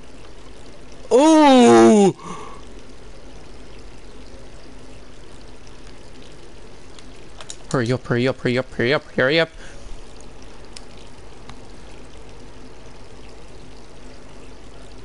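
Water runs steadily from a tap as a constant soft rushing hiss that lasts the whole stretch, with a person's loud exclamations breaking in over it twice.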